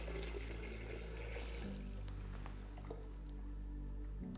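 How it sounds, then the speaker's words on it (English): Photographic fixer solution is mixed with water in a darkroom, giving a soft, continuous sloshing and stirring under a steady low hum, faint and close, with no voices. "Mixing intensively, carefully, with no drops or splashes, but actively."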